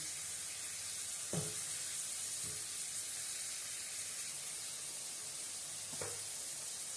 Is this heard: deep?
no